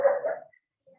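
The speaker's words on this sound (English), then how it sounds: "Sorry, my dog's fucking crazy." A single dog gives one loud, close bark-like burst lasting under half a second, followed by near silence with a faint trailing yelp.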